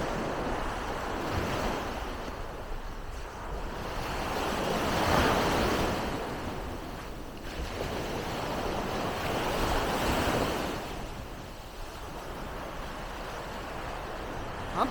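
Ocean surf on Yellow Beach, Koh Samui, in Thailand rolls in as broad, hissing waves that swell and recede in slow cycles, with some wind rushing over the microphone and no voices.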